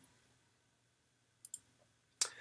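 Computer mouse clicking while tracing a line point to point in CAD software for window and door casings; a few sharp, close clicks, two near the middle and one louder burst toward the end, over quiet room hiss.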